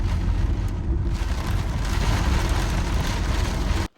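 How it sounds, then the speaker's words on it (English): Steady heavy rain hisses continuously on surfaces at a self-build house site, a dense even wash of noise that cuts off abruptly at the end. "Oh dear, will this rain ever stop?"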